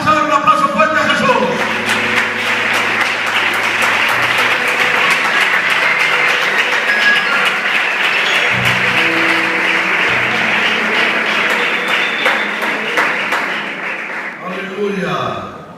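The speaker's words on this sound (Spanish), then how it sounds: "Vamos a dar un aplauso fuerte a Jesús." A church congregation claps loudly and continuously for about fourteen seconds, a dense sustained applause that fades slightly toward the end.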